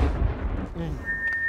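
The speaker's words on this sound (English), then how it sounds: "Now it is going to explode." A cartoonish explosion blast erupts from a food truck cooking contest, a loud deep rumbling boom that fills the whole short burst, with a thin high whistling tone rising near the end.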